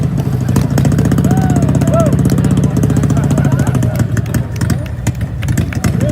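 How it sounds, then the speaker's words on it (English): Custom-built lawn mowers drive past in a 4th of July parade, their small engines putting out a steady, loud mid-pitched rumble throughout, with crowd voices and chatter layered over the engine noise. "Those are some custom mowers."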